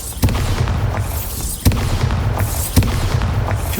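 Three Bombarda explosion spells go off in Hogwarts Legacy, each a sharp, booming blast followed by a rumbling, crackling tail, spaced roughly a second and a half apart.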